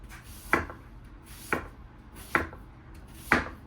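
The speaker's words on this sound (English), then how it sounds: "gorgeously thin slices of onion" A knife slices an onion into thin slices on a cutting board, four crisp even strokes about a second apart, close and clear over a quiet background.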